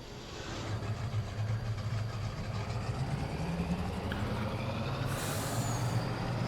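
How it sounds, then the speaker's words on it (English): A ZIL 131 military truck engine idling in the Farming Simulator 22 game, a steady low rumble with a faint whine, continuous and even with no talk over it. "I like the engine noise when it's idling"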